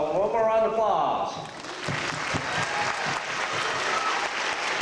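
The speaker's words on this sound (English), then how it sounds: "let's give them one more round of applause" Audience applause for students at a D.A.R.E. graduation ceremony, a steady dense round of clapping filling the room after a brief voice at the start.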